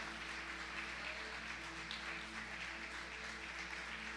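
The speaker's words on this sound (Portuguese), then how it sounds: "você dê um forte aplauso a Jesus pela vida do nosso time tão abençoado de voluntários" Church congregation clapping at a service, a faint, distant, steady wash of applause over a low hum, with no voice over it.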